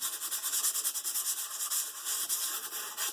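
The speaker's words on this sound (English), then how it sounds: "I'm going to take some kind of worn out old sandpaper, not too much of a grit, and just sand down the grit" Worn, fine old sandpaper rubbed over dried clear gesso on a mixed-media collage piece, giving quick, rhythmic back-and-forth scratchy strokes, close and steady with no talking.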